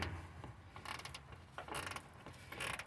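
A wrench working bolts loose on the radiator of a 1995 Chevy C1500 pickup gives soft ratcheting clicks and metallic creaks in short bursts, close and fairly quiet, with no talking.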